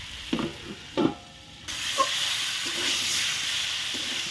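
Fish curry being stirred in a pan with kuchia (eel-like) fish: a couple of soft scraping strokes, then a steady close sizzle and hiss of frying spices that runs to the end.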